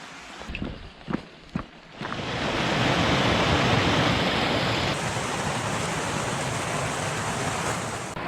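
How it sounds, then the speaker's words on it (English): The River Wye rushes past in a wild valley setting, a steady broadband roar of flowing water that swells in after a few quieter thumps and handling knocks, then holds loud and close with no voices. "I think this river here is actually the Wye, not the Severn"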